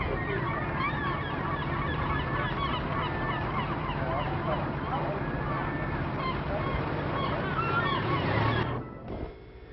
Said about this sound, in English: the voyagers assembled at the Cape Ann Marina, where the seagulls gave us a raucous welcome